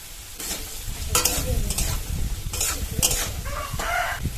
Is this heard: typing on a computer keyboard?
no